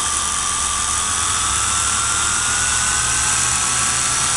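Small quadrotor drone motors spin up on a bench test, a steady high-pitched whine with a strong tonal hum that holds loud and constant throughout, no talk over it.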